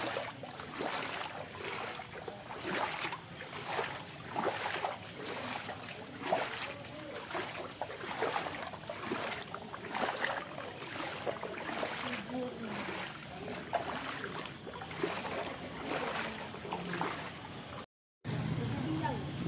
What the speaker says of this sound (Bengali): জল তাড়াতাড়ি বেরিয়ে যাচ্ছে